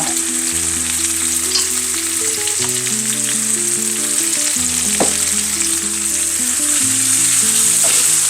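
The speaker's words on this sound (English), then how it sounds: "I'm not separating the garlic or the onions or anything like that. It's all going into the pan." Garlic, onions and vegetables fry in olive oil in a pan, a loud, continuous close sizzle with occasional light clinks and stirring.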